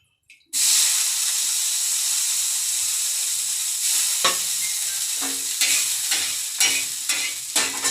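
A thin layer of oil heats on an iron tawa over a stove before masala dosa goes on. A loud, even sizzling hiss starts abruptly and holds steady, broken by a few sharp crackles and spits near the end.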